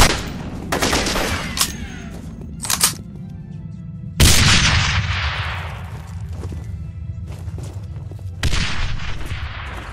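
Gunfire in a Royal Marine Commando war video game: repeated loud shots and bursts, with big sharp blasts standing out around four and eight seconds, ringing over a steady rumble with no talk.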